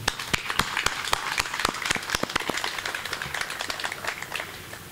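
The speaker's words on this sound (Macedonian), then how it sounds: "а големото дело на великанот Блаже Коневски, да им се заблагодариме со искрен аплауз." Audience applause at a commemoration of Macedonian Language Day and the 100th anniversary of Blaže Koneski's birth: dense, steady clapping from a crowd with sharp individual claps standing out, sustained throughout at moderate level.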